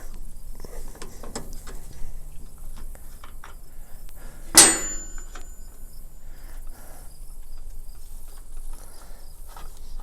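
Wrench work on a John Deere 336 baler: a few faint metallic ticks, then one sharp, close clank near the middle, over a quiet outdoor background with no talk.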